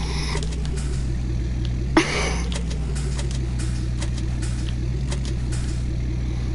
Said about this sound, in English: you can tell this is a good truck. Like, just by the sound.